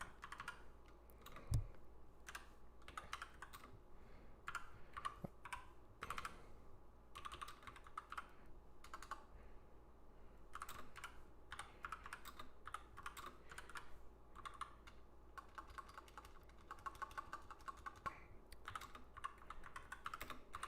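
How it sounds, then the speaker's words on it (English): Steady typing on a computer keyboard, done one-handed during a live online game session: a continuous patter of quick, light key clicks with irregular bursts and brief pauses, close and fairly quiet, with no talking. "I'm typing one-handed right now."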